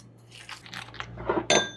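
Ground bison meatball mixture with salt and black pepper is squished and worked by hand in a bowl, giving a short run of wet, crunchy squelches that grow louder toward the end, with no talking.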